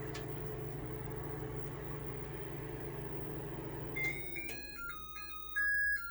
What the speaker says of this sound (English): this microwave is definitely putting the power station through its paces